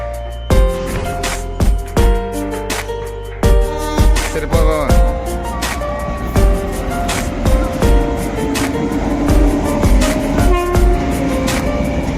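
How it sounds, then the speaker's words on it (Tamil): Local train pulling into a station on the way to Tiruvallur, with loud horn blasts, clattering wheels and rail noise building as it arrives close by, and no voices. "இதோ எங்களுக்கான லோக்கல் ட்ரெயினும் வந்தாச்சு."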